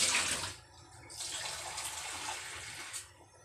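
Water runs and splashes into a pressure cooker while cooking pork ribs sinigang, a steady close pour with a brief pause after half a second, then a flow that tapers off near the end.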